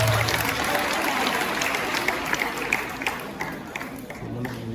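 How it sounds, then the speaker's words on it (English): Applause from the audience at a Gambian SASA handover congress, a dense steady clatter of many hands under a low murmur of voices, holding fairly loud for the whole stretch. "can you please give the round of applause?"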